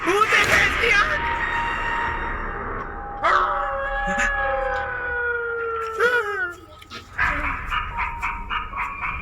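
A dog howls and whimpers in a Hindi-dubbed Chinese action movie scene, drawn-out wavering cries rising and falling several times, loud and close, with dramatic film sound layered in.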